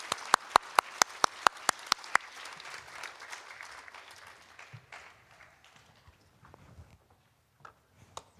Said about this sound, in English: please welcome Professor Guth with a big round of applause